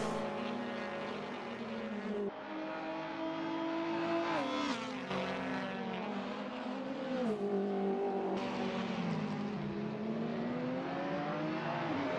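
Audi touring race cars roar down the front straight at Snetterton in a British Touring Car Championship round, their engines loud and close, with pitch sweeping up and down through gear changes over a continuous mechanical drone.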